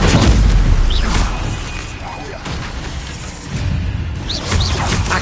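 A Stupefy spell cast in a video game: loud, booming magical bursts with whooshing swells, heavy low-end impacts that fade and then return in a few punchy hits.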